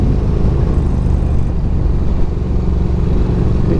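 A Triumph Daytona 660 motorcycle is ridden on a test ride, its engine giving a steady, loud rumble mixed with road and wind noise throughout, with no talk.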